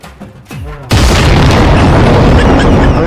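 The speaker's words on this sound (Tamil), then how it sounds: "வாழ்க்கையிலேயே மறக்க மாட்டேன், அவ்வளோ ஸ்பெஷலான வெடி." A Diwali firecracker bursts with a loud, sharp boom after a stretch of quieter voices and background sound, followed by a dense lingering roar and crackle of the blast echo.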